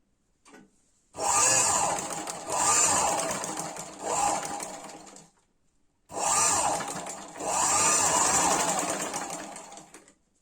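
A sewing machine stitches fabric for narrow palazzo pants, running loudly in two long bursts of rapid, steady needle rattle separated by a brief pause.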